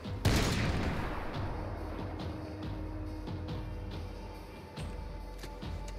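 A single loud sniper shot in Max Payne 3 cracks at the start and decays into a rumbling tail, followed by softer scattered game sounds and faint distant pops.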